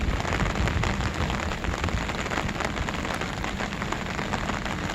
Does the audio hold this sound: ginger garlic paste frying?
no